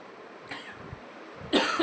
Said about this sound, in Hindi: खांसी मुझे आ रही